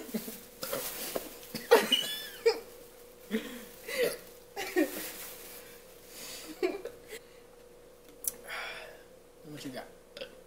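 Several burps after drinking a banana and Sprite mix come as short, wet bursts spread unevenly through the stretch, mixed with breathing and voices in between.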